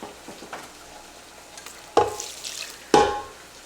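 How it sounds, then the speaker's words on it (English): Half a stick of butter browning in a pan: a low sizzle with faint stirring, then two loud hissing bursts about a second apart, up close. "we're going to go ahead and add in our butter"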